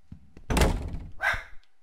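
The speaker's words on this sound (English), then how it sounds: "The doors are slamming again." Doors slam in the indie video game The Cinema Rosa: two heavy, close wooden thuds about half a second apart, loud and alone with no voices.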